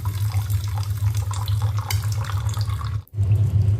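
Lentils rinsed in water in a kitchen, a steady close splashing and running-water rush with small sloshes, briefly cutting out near the end before resuming.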